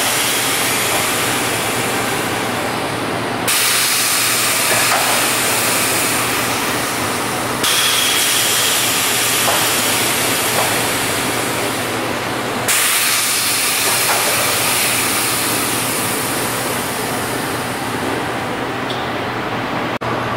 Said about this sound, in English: on the left-hand side of the equipment, we have our pneumatic clamping opening close valve